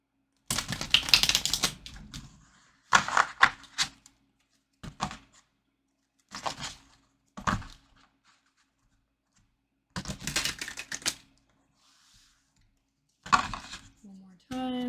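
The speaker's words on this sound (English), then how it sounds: "let's shuffle this deck first" A deck of tarot cards being shuffled by hand in several separate bursts of riffling and slapping, fairly close, with short pauses between each pass and no talk over them.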